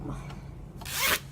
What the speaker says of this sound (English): The zipper is in.